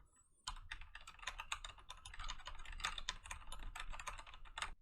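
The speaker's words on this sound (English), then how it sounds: "this is a test for the keyboard when it's behind the mic" Computer keyboard typing picked up from behind a Blue Snowball Ice USB microphone, a rapid, steady run of clicky keystrokes that starts abruptly and carries on fairly faint and slightly distant.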